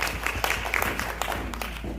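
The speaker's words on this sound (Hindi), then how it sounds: "जोरदार तालियां" Audience applause at an indoor business meeting, a steady wash of many hands clapping with scattered sharper claps, moderately loud and continuous for the whole stretch.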